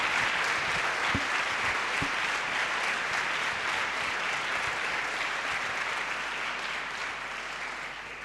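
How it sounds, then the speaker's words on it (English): An audience in a university hall breaks into steady applause, dense and sustained, gradually fading slightly toward the end, with no voices on top. "I had to ask you to clap."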